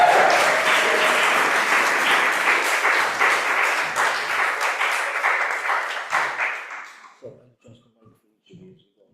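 Round of applause at a Cork open-mic winter showcase welcoming three performers: dense crowd clapping that gradually thins into scattered claps, with a few voices as it dies away.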